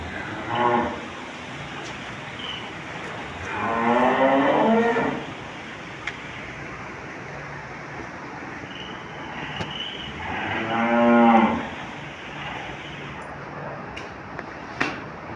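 Dairy cows on a farm moo in two long, drawn-out calls several seconds apart, fairly close and clear over a steady low background hum, with faint clicks in between.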